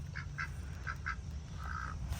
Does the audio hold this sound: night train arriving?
no